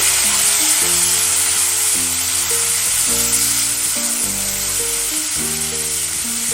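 Chopped tomato goes into a pan of frying carrots and beans for chicken fried rice, giving a steady, close sizzle with low tonal background music running throughout and no talking.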